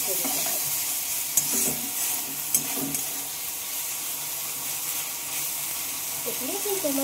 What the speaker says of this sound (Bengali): এখানে কিন্তু আমার মশলাটা প্রায় কষাতে হয়েছে।